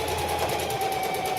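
Sewing machine running a zigzag stitch on skirt fabric, with a steady, fast mechanical whirr and rapid needle ticking, close and continuous without pause.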